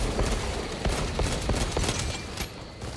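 Orbital guns firing in the Space Marine 2 video game, a dense barrage of sharp impacts and blasts in a steady loud stream over low rumble, with no voices.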